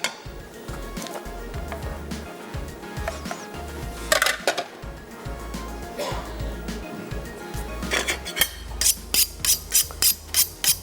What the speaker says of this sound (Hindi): सॉस बनाने के लिए ले लेते हैं एक अदद पैन।